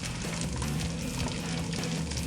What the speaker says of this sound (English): Ooh, little sizzle, listen to the sizzle.